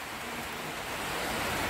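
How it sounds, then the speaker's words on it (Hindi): Light drizzle falling outdoors at a village market, a steady, even hiss of fine rain on surfaces, continuous and close, with no talking over it. "बारिश भी हो रही है, रिमझिम की खूबसूरत बारिश हो रही है"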